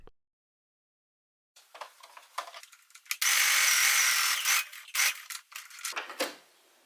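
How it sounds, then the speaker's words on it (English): A sewing machine stitches the front and back bodice pieces of a child's spring/summer dress together, starting after a brief silence with soft whirring runs, a louder sustained stretch in the middle, then stop-start bursts. "pin the top of the front and the back bodies together and sew"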